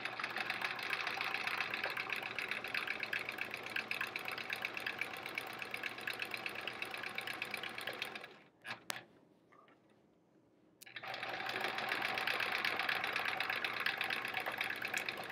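A sewing machine free motion quilts a clock block, a steady fast mechanical whir that stops for about two seconds of near silence with a couple of clicks, then resumes, close and moderate.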